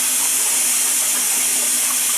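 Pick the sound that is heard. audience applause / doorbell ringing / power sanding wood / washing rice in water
washing rice in water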